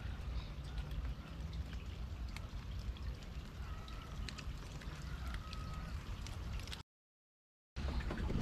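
Rain falls on a lake while someone shelters under a bridge in a rubber boat, a soft steady patter with scattered drips, faint and continuous, interrupted by a brief gap near the end.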